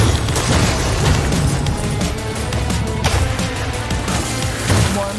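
Explosions in the action video game Soulstice, a loud, continuous barrage of deep booms and crashing blasts, several overlapping bursts with a rumbling low end running throughout.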